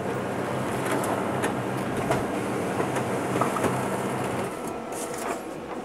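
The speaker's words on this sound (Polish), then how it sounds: "Zrobimy jeszcze raz wydruk testowy." A Brother DCP-L5500DN laser printer running a test page, a steady mechanical whir with rapid clicking and rattling paper feed, close and continuous without speech.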